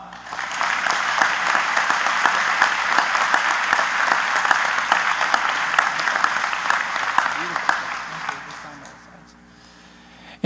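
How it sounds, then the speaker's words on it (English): An audience at a graduation ceremony applauds loudly and steadily for about eight seconds before the clapping quickly fades away. "One big last round of applause."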